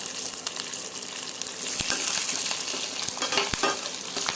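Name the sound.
curry leaves and dry red chillies frying in a pan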